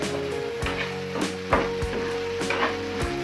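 Loitta fish frying in a pan for a traditional Chittagong-style bhuna, a steady close sizzle with occasional louder crackles and spatter bursts, no one talking.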